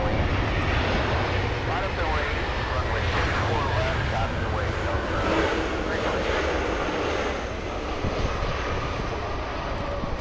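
A Japan Airlines jet airliner departs from LAX with a loud, continuous engine roar that holds steady throughout. Voices talk faintly underneath.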